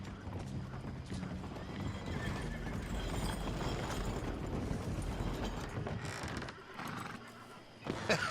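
Horse hooves clip-clop steadily in Red Dead Redemption 2, a swift horse trotting at moderate distance under a busy background with a brief whinny.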